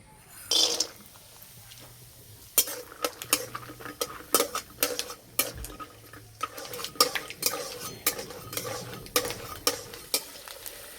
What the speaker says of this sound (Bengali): প্রথমে বাদাম ভেজে নেব।